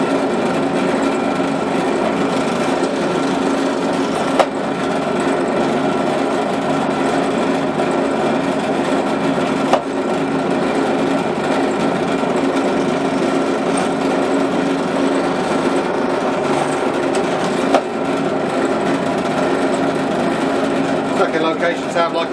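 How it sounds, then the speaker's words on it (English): A power drill runs continuously at high speed drilling holes in a kydex sheath, a steady loud whine with a few brief clicks, and a voice talks faintly underneath. "I'll drill another one."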